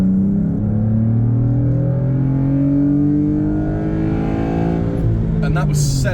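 A Vauxhall Vectra 2.6 V6 SRi engine revs hard in second gear up to 7,000 RPM, its loud, close note climbing steadily in pitch throughout.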